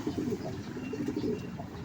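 A racing pigeon coos softly in low, repeated throaty pulses against a steady background hum.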